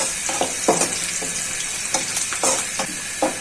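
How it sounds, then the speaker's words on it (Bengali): Garlic frying in hot oil before radish greens are added makes a loud, steady close-up sizzle, punctuated by repeated scraping and clinking strokes of a stirring spoon against the pan. "ভালো করে রসুনটা ভাজা হয়ে যায়।"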